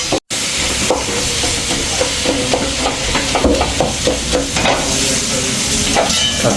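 Tomatoes frying in a pan for a Kuttanad-style duck curry, giving a steady close hiss and sizzle with irregular stirring scrapes and taps throughout.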